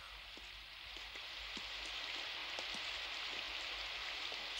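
Steady rain falls on a town during an animated scene, a constant hiss with scattered drop ticks, heard alone without voices.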